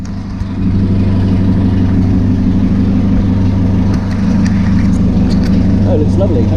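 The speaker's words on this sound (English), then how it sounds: "So, that's how you start the Blower Bentley." A 1929 Blower Bentley engine catches and then settles into a loud, steady, low idle that rumbles on without a break, with a little handling noise near the end.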